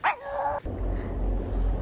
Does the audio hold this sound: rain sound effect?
no